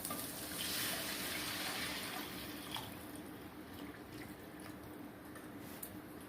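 Tamarind juice pours steadily into a clay pot for fish curry, a soft continuous splashing that eases off after a few seconds, close and fairly quiet.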